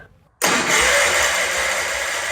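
Wheel Horse C-120 lawn tractor engine catching abruptly after silence and settling into a loud, steady running rumble close by.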